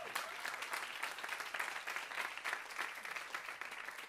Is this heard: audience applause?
yes